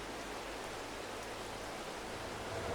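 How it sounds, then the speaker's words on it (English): Steady rain hiss in Farming Simulator 22 with an electric forklift running, a soft even wash of noise and a faint low hum underneath, unbroken for a few seconds. "Electric forklift in the rain."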